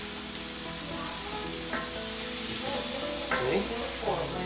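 Eggs cooking in a pan sizzle and crackle steadily, with occasional louder scrapes and stirs from a utensil, close and moderately loud, with faint background sounds and no clear speech.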